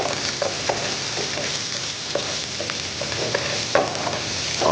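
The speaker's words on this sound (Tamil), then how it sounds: "ஃபைனலி சாப் ஜிஞ்சரை வதக்கிட்டு" Finely chopped ginger and onion are sautéed in a pan for a chilli mushroom dish, with a steady soft sizzle close by and repeated scraping stirs of a spoon.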